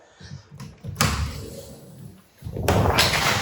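Heavy-duty closet doors, cheaper units faced with MDF wainscoting, swinging open in a house under renovation, giving two loud bumping, thudding door movements close to the mic with a short lull between them.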